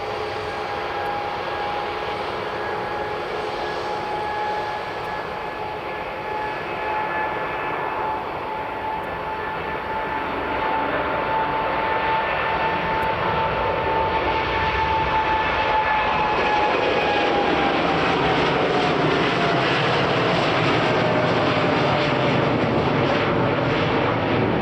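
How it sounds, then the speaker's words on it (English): An airliner takes off with a tailwind at Edinburgh Airport, its engines a sustained loud roar with a steady whine that dips in pitch as the rumble grows heavier and closer toward the end. "Is taking off with a tailwind."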